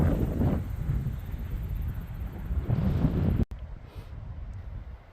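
Steady wind buffets the microphone on a Colorado mountain trail, a loud continuous roar that swells and eases, cuts out briefly and then returns more softly.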